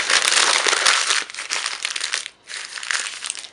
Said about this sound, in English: And then you're going to go ahead and crumple this up.